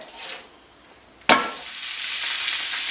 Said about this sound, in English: Now we're going to sear it on this hot griddle.